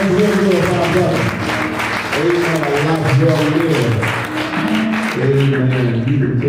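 A congregation at a memorial service claps their hands loudly and continuously for a pastor, with singing or calling voices riding over the rhythmic clapping throughout.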